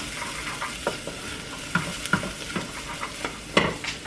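Food for a creamy garlic Asiago orzo dish stirred in a hot, sizzling pan: a steady close sizzle broken by scattered utensil scrapes and taps, with no one speaking.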